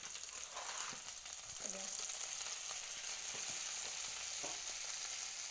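Kashmiri red chili powder stirred into melted butter in a pan, giving a soft steady sizzle with faint scraping stirs, quiet and continuous, without talk.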